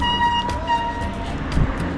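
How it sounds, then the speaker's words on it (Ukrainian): High, sustained bicycle brake squeal after getting wet, with wavering tonal whines over rolling road noise, a few faint clicks breaking through. "після купання у нас тепер скриплять гальма"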